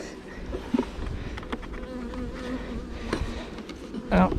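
A steady, close buzzing of many honeybees around a hive with a low droning hum, individual insects briefly swelling louder as they pass by.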